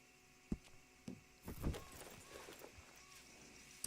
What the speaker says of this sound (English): Oh, it's a Tennessee Walker.